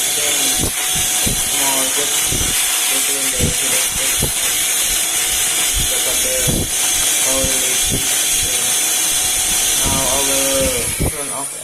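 A Zola wireless electric air duster blasts a loud, continuous hiss of air through its nozzle, running steadily for the whole stretch while someone talks over it.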